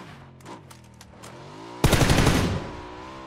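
Automatic gunfire in PUBG on the Rondo map, shot from a car: a loud, dense burst about two-thirds of the way in, preceded by a few faint distant shots and low engine-like hum.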